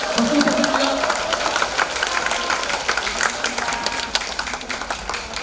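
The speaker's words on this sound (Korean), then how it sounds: "박수 부탁드립니다." Audience applause at a book launch event for a Korean politician, a loud, continuous stretch of clapping with scattered individual claps and crowd murmur, fading somewhat toward the end.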